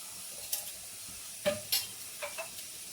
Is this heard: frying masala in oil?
yes